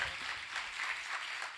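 Congregation clapping at a religious gathering, a soft, steady patter of many hands, fairly distant and even throughout.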